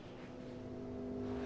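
A car engine in the Mad Max video game holds a steady, droning hum at constant revs, close and even for the whole moment.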